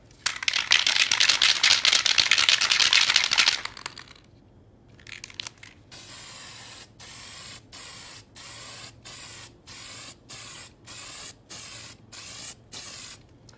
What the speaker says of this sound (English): shake, aim, and spray.